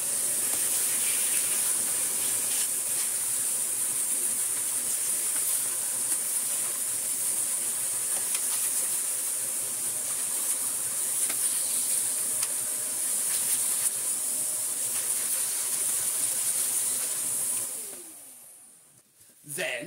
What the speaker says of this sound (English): just get the Victor V9 with the dusting brush on and just get all of this thick dust off